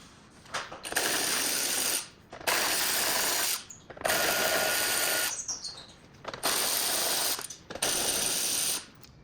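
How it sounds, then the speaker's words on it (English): A ratchet spins out the bolts holding the bumper on a Land Rover Defender L663, with four or five long bursts of fast, close, loud clicking separated by short pauses. "So we just undo those bolts and then we're ready to pull the bumper off."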